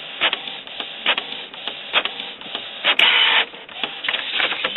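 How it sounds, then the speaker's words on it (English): A Canon PIXMA MG-series inkjet printer fitted with a continuous ink supply system runs a nozzle check, its print head carriage making repeated rubbing, whirring passes with brief clicks and a louder burst near the end, heard alone up close. "Now you're going to print out a nozzle check."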